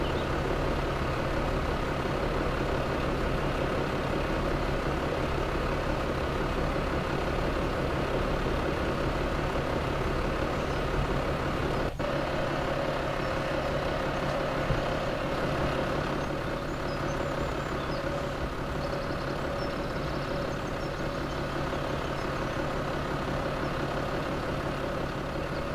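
A low loader truck engine in Farming Simulator 17 drones steadily at idle, a continuous low mechanical hum with a brief click partway through, even in level for the whole stretch with no speech.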